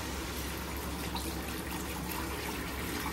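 Water pours steadily into a chicken biryani pot with basmati rice, a constant close gushing stream that holds at an even, fairly quiet level throughout.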